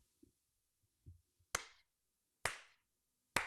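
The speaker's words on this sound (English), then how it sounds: "That's that slow clap I'm talking about, y'all." A slow clap: three loud, sharp, evenly spaced hand claps roughly a second apart, each with a short ringing decay, preceded by a few faint soft taps in a quiet room.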